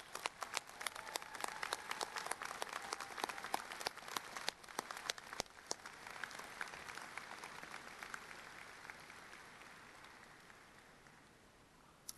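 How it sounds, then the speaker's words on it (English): A large audience at a Johns Hopkins master's degree graduation ceremony applauds, a broad sustained wash of clapping from a big hall that gradually fades over about twelve seconds. "I ask you now to please join me in recognizing your family and friends in applause."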